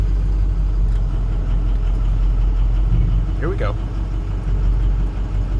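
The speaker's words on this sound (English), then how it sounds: "She's running alright right now, idling." A 2006 Ford F650 diesel truck with a VT365 6.0L engine and no power under load idles with a steady low rumble throughout, outside a shop, while someone briefly speaks over it.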